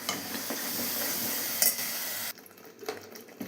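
Tomato paste frying and being stirred in a pan for a chickpea curry, a close steady sizzle with scraping stirs and a light utensil clink, the sizzle dropping abruptly partway through to softer intermittent crackle.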